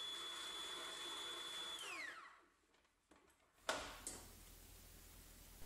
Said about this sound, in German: Wir lassen die Maschine erst kurz rühren